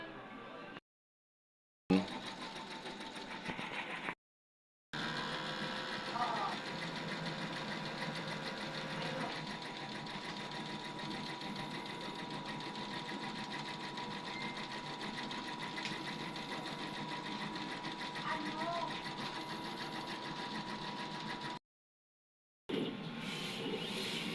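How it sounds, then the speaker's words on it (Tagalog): A DTF printer (XP600 print head) runs with a continuous mechanical whir and rapid rhythmic clatter, steady and fairly close, broken by a few short gaps of silence. "Ito ang aming machine na XP600."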